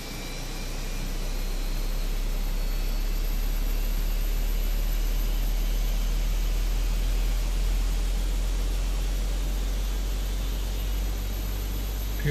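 Airbus A320 jet engines spool up in a flight simulator, a steady, loud, broadband roar with a deep low rumble that holds constant throughout with no voices.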